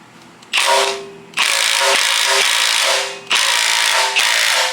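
Battery-powered impact gun with a weighted socket, tightening bolts on a billet timing chain cover, running in three loud sustained whirring bursts with brief pauses between them, close up.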